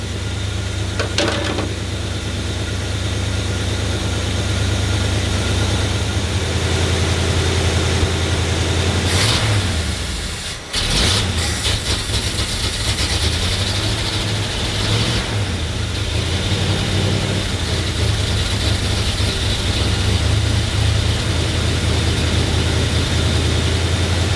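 A 1968 Ford F350 truck engine with an Edelbrock 1406 carburetor runs at half choke in a rough, even drone, with a brief dip partway through before settling back to the same idle.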